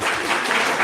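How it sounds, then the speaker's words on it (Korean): A short burst of audience applause at a consumer meeting, dense clapping filling the whole moment at steady loudness. "큰 박수 부탁드립니다"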